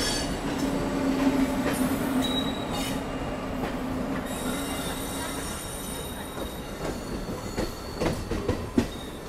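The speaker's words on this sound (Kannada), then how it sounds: "ಅಲ್ಲಿ ನೋಡಿ ಹೊಸೂರು ಲೈನ್ ಕಡೆಯಿಂದ ಯಾವುದೋ ಟ್ರೈನ್ ಬರ್ತಿದೆ" A train approaches on the Hosur railway line near Bengaluru, with continuous rolling clatter and a sustained high wheel squeal. It stays loud and close throughout, and sharp rail knocks build toward the end.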